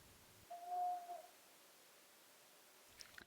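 An owl hoots once at night near desert caves, a single soft, tonal call of about a second, faint and somewhat distant over a quiet background hiss.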